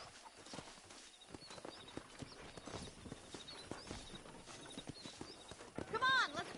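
Horses clip-clop at a steady pace in the Red Dead Redemption video game, hooves thudding rhythmically while a horse snorts and whinnies near the end, with game voices talking over it.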